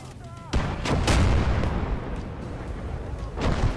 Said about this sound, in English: Oh wait, that's an anti-air gun.